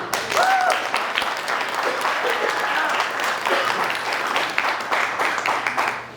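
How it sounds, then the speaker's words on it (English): A crowd at a political support gathering applauds continuously in a full, steady roar of clapping, with cheers and voices mixed in throughout. "please one more round of applause to Steve Schafer"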